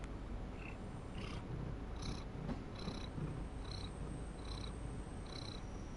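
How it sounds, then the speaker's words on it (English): A cat purrs close and quietly, a low steady rumble with soft rhythmic pulses over a few seconds. "she's purring"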